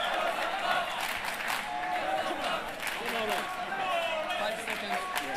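Spectators at a table soccer semi-final match of the 2011 ITSF World Championships applaud and cheer steadily, a dense wash of clapping and crowd noise sustained throughout with voices mixed in.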